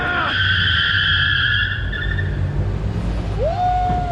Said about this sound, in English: That's how you do a burnout.